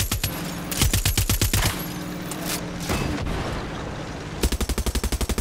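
Rapid automatic gunfire in the video game Far Cry 6, loud close bursts of evenly spaced shots that break off, resume with scattered noise, then return in a final fast volley as the weapon runs toward overheating.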